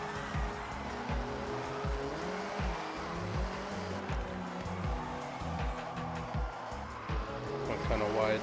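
A Nissan Silvia S13 touge build drifts in Forza Horizon: a revving engine pulses rhythmically through the corners while tires squeal and skid, the sound staying steady and close throughout.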